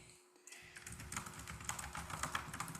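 Keys clatter on a computer keyboard in rapid, uneven typing that starts after a brief quiet moment and continues steadily, close and soft.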